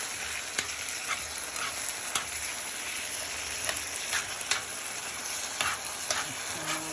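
Taco filling stirred and sizzling in a scratched non-stick pan where it sticks in the middle, steady frying crackle with intermittent scraping stirs throughout, no talking.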